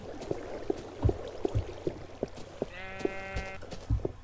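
A Minecraft sheep bleats once, a clear, quavering baa heard up close over a steady run of soft footsteps and thuds in the game world.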